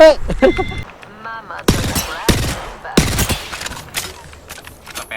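Apex Legends gunfire in close, loud repeated bursts of automatic shots, with short gaps between volleys, and a voice at the start.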